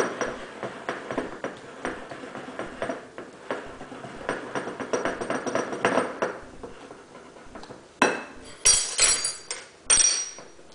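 Coconut-hemp pancake batter being stirred in a bowl, with a run of rapid clinking taps of utensil against the bowl and several louder clanks near the end.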